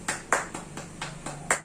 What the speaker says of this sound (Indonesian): Beri tepuk tangan untuk keduanya.